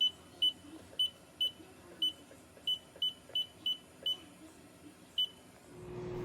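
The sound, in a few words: kitchen timer beeping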